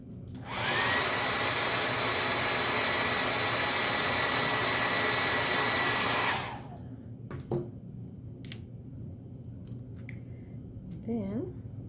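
A craft piece being dried with a hair dryer: a loud, steady blowing roar for about six seconds that cuts off abruptly, followed by quiet handling clicks and rustles.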